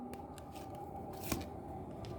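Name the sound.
tarot cards being shuffled and drawn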